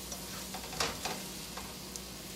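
A spoon stirs sautéed bulk sausage into hot, sizzling queso with a few soft scrapes and gentle bubbling under a low, steady background hiss.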